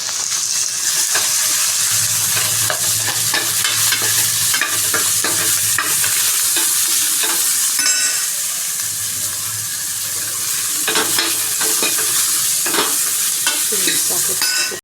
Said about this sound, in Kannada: ಎಣ್ಣೆ ಹಾಕ್ಕೊಂಡಿದ್ದಾದ್ಮೇಲೆ ಈ 1 ಈರುಳ್ಳಿ ಕಟ್ ಮಾಡಿದ್ದನ್ನು ಹಾಕೋಣ